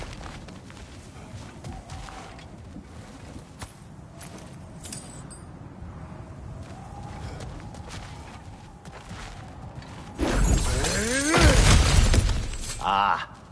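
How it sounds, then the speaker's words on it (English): Breakable objects shatter in the God of War game, with a loud burst of crashing and splintering near the end after a long stretch of quieter ambience and voices. "back to smashing through things for fun and profit"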